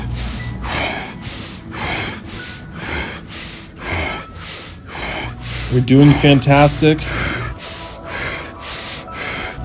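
Rapid, deep rhythmic breathing exercise, with forceful inhale-exhale cycles repeating about once a second, close and loud, alongside a coaching voice speaking over the breaths.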